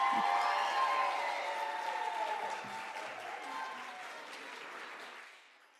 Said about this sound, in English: if everybody can give all of our contestants a round of applause